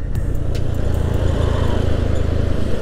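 Yamaha Aerox scooter bored up to 200cc with an aftermarket exhaust, riding along with a steady low engine drone and constant wind rumble, loud and close throughout.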